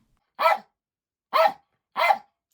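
Three sharp dog barks, close and loud, separated by short silences.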